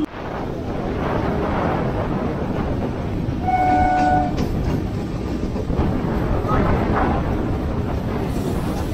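A crowded Sealdah–Hasnabad local train runs with a loud, continuous rumble and rattle from onboard, and a brief horn-like tone midway, under a constant din of carriage noise.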